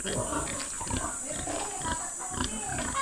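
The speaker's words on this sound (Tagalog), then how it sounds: "Yan mga barako po." Breeding boars on a pig farm grunting in close, continuous low snorts and oinks, steady and near with no talk over them.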